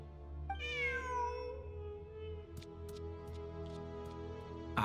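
A cat meows once in Genshin Impact, a clear rising and falling call that stands alone over steady game background music, followed by a few faint clicks.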